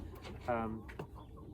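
A backyard chicken gives a short cluck with a brief tonal squawk, close and soft, over quiet outdoor background noise.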